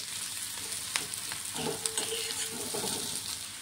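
Onion gently sautéing in a pan for poha gives a soft, steady sizzle with a few stirring scrapes and light clinks, fairly quiet and close, with no voices.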